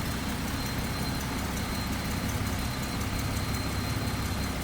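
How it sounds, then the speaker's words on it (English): A 1946 Plymouth Special Deluxe Club Coupe's 218-cubic-inch inline six with a 6-volt system idles smoothly, a steady, even rumble held close and continuous with no voices. "Inline 6, 218 cubic inches, and that baby is running smooth."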